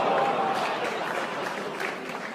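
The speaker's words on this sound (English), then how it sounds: "that deserves a round of applause" Audience applause at a stand-up comedy show, a steady dense patter of clapping from the crowd that holds at an even level throughout with no clear break.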